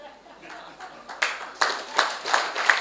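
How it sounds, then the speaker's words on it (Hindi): An audience at a health talk claps, starting as faint scattered clapping and building into several louder, rhythmic bursts. A voice can be heard faintly beneath the applause. "आप लोगों की यह आदत अच्छी है तालियां बजाने की"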